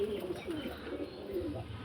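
Low, rolling coos from pigeons in a loft repeat several times at moderate distance, soft and muffled against a steady background hum.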